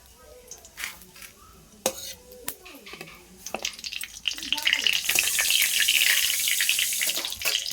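Nigella seeds and a dried red chilli frying in hot mustard oil, the crackle and sizzle building from sparse pops to a steady loud hiss, with a few stirring knocks and a voice talking over it.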